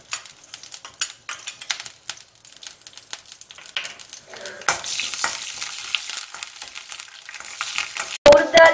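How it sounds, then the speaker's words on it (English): Mustard seeds and urd dal frying in a teaspoon of oil in a kadai, a close crackling sizzle with busy popping and stirring scrapes that thicken halfway through, ending in a few sharper clatters. "Now in a kadai, I have added 1 teaspoon of oil. Then I am adding the mustard and urd dal."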